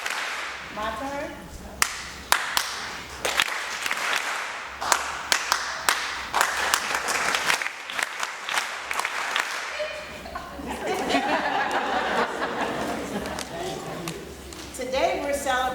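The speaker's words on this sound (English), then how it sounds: "you're going to follow me with the hand claps" An audience at a Chestertown Tea Party celebration claps along in sharp, separate bursts and rhythmic patterns after a lead, with chuckles, voices and a warmer spread of crowd applause near the end.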